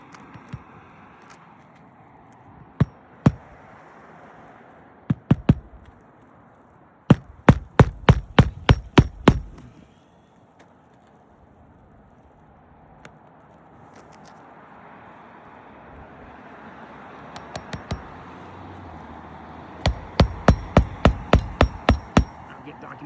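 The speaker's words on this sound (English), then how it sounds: "I can strike the hammer perpendicular to the roof deck" Two bursts of rapid hammer blows nailing roof shingles, quick strikes in clusters with a few isolated taps, over faint outdoor background noise.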